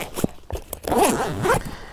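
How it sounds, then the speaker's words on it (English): A zipper on a landscape photography camera bag being opened nearby: a few short rasping tugs followed by one longer, smooth pull. "it has a zipper opening"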